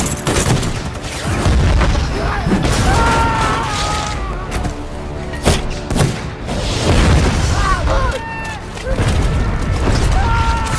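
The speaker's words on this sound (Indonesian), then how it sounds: "mereka langsung disambut oleh pasukan Jerman dengan senapan mesin dan artileri" Bursts of German machine gun fire and heavy booms of artillery during a battle siege, chaotic and loud, with shouting voices mixed in.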